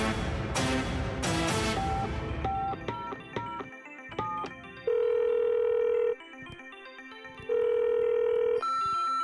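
A telephone is dialed with a quick run of short beeping key tones, followed by two long, steady ringing tones with a short gap between them, loud and close, with no talking.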